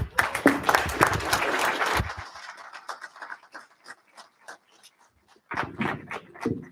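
Audience applause at a special city council meeting greets an assembly member coming up, dense clapping for about two seconds before thinning to scattered claps and murmurs, with a brief renewed patter near the end.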